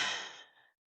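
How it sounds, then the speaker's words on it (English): A single deep, breathy sigh of an exhale during a guided tapping practice, close and clear, lasting under a second before cutting to silence. "Take a deep breath."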